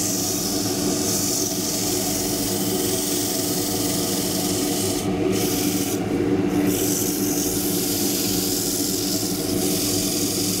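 A lathe tool cuts a small green wood bowl with the lathe running in reverse, a continuous close rasping, rubbing hiss holding steady throughout with a hum underneath.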